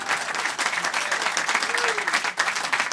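A live studio audience at a small lounge music session claps steadily and loudly for about three seconds, with a brief dip near the end before the applause picks up again.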